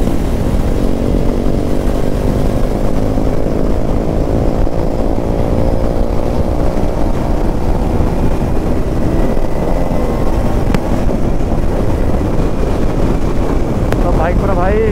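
A Kawasaki Ninja 300 engine hums smoothly while the bike is ridden on a mountain road in Chhattisgarh, a steady close drone with heavy wind buffeting over it throughout, and a voice now and then.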